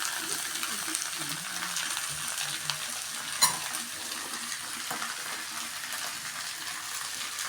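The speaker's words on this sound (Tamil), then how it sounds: "நல்லா கிளறி விட்டுக்கோங்க. இந்த கிளறுறது தான் ரொம்ப ரொம்ப இம்பார்ட்டண்ட்டு." Leftover rice is stirred around a kadai with a spoon, giving soft scraping and a light sizzle that continue steadily, plus one brief louder clink near the middle.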